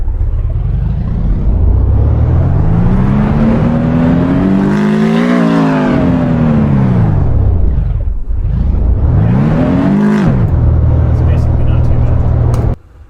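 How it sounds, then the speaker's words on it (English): A roaring car engine in the racing game Assetto Corsa revs up and down continuously, pitch rising and falling through sweeping runs, loud and close, with a brief dip before a final surge. "Let's see how this sounds."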